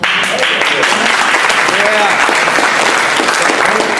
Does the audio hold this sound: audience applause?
yes